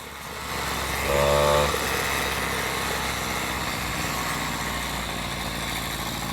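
Motorized bicycle fitted with a Peugeot 103 moped engine, running as a steady buzzing two-stroke drone while riding, with a brief louder rev early on before settling into an even hum.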